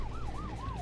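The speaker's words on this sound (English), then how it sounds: "Kick those sirens into high pitch." A wailing emergency-vehicle siren in the video game Human Fall Flat, rising and falling in a steady fast cycle, faint and continuous over a low engine rumble.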